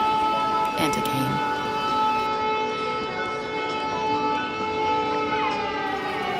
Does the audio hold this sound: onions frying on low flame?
no